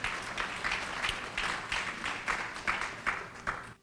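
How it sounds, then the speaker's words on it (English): An audience at a fair housing presentation gives a moderately loud round of applause, with separate claps in an uneven rhythm that fade at the end. "Let's give them a round of applause"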